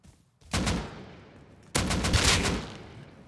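Gunfire in the survival video game Rust: two loud bursts of shots, the first starting about half a second in and tailing off, the second stronger and fuller, with no talk over them.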